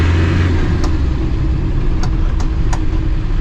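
Classic Land Rover Defender engine pulling in very low first gear, a loud steady rumbling drone heard close from inside the cab, with a few faint clicks.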